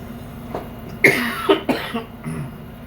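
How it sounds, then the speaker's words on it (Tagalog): A short burst of several dry coughs close to the microphone, followed by a couple of softer throat sounds. "Isa na po ako inuubo talaga"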